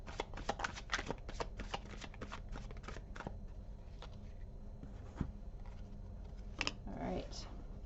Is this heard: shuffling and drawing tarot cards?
yes